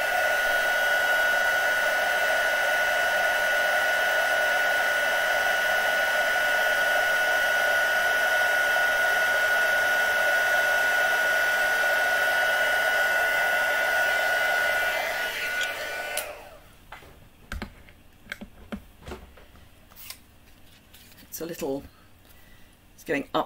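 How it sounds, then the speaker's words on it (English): A craft heat tool blows hot air in a steady loud whir for about fifteen seconds, then switches off, leaving quiet handling clicks and taps. "Just heating up my heat tool."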